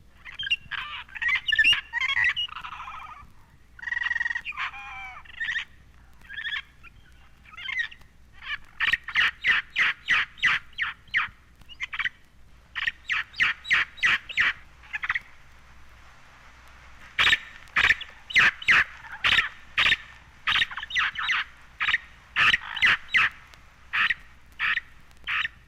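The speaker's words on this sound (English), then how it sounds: "A bird of the lowland rainforest, the blue-crowned parrot, frequently says chop chop." A blue-crowned parrot of lowland rainforest gives repeated raspy calls, first scattered chattering squawks, then rapid rhythmic series of short harsh 'chop' notes in bursts, fairly close and alone without talk.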